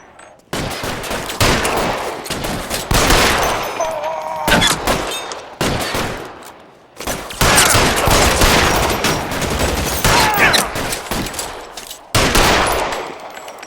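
Heavy gunfire in the L.A. Noire shootout, loud dense volleys of rapid shots in several long bursts separated by short pauses, close and dominant throughout.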